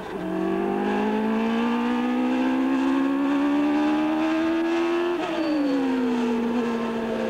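Michael Schumacher's Formula 1 car at the Barcelona Spanish Grand Prix holds one gear down the straight, its high engine whine climbing steadily and loudly for about five seconds, then dipping briefly before rising again.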